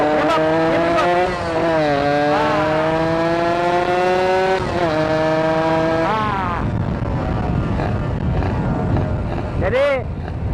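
A Suzuki Satria two-stroke motorcycle with a swapped ignition coil revs hard and close in second gear, its buzzing note climbing in steps and then stuttering and sputtering as it falters, with a short rev burst at the end.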